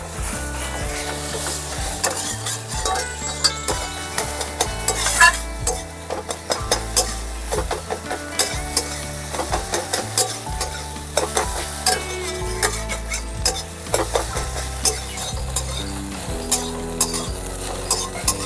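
Scrambled egg bhujia fries in hot oil in a wok over a gas flame. It is stirred continuously, giving steady scraping and soft sizzling under background music.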